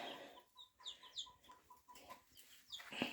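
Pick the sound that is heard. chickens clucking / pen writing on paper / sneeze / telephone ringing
chickens clucking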